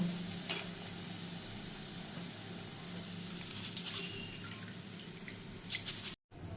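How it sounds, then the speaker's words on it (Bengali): Flattened rice (chira) frying in a pan for masala chira, a steady close sizzle with occasional light stirring clicks. "একই রকমভাবে আমি চিড়েগুলো সব ভেজে নেব"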